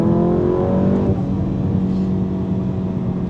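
A 2024 VW Golf GTI Clubsport MK8.5 with a 7-speed DSG gearbox accelerating gently, its engine a moderate steady drone with rising tone that drops off as it shifts, heard from inside the car.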